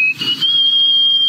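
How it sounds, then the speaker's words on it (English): A woman whistles through her nose, a loud, thin, piercing tone held steadily for over a second after a brief breathy start, with nothing else heard. "for the loudest nose whistle"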